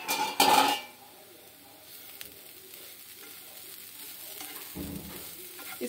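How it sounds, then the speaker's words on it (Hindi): Cauliflower filling for kachori frying in a pan while being stirred, with a loud burst of scraping and clatter at the start, then a steady low sizzle and another short stir near the end. "इसे 2 से 3 मिनट के लिए फ्राई कर लेंगे।"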